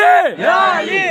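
A crowd at a religious gathering for Madar at Nagar Sharif shouts the slogan 'Haidari' in one loud, sustained collective cry, voices rising and falling together with no background pause.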